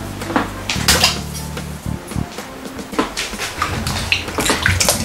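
Yam pieces are washed in a metal cooking pot, with water sloshing and the pot clanking and scraping in irregular bursts, close up and fairly loud.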